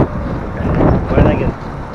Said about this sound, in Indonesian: Ini di luar ini udaranya cukup kencang.